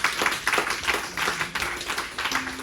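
Congregation clapping and applauding in a church service, a dense run of quick hand claps with irregular bursts throughout, with a faint sustained tone creeping in near the end.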